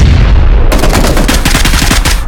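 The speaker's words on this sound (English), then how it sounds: "I have been spending a lot of ammo killing this guy" Loud, close automatic gunfire while fighting an enemy in PUBG: after a rumbling lead-in, a rapid stream of sharp shots rattles steadily for over a second with no talking.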